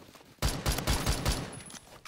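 Video game gunfire from a moderate-recoil weapon, a rapid burst of several loud, close shots, each clipped and punchy, then a short tail of fading noise.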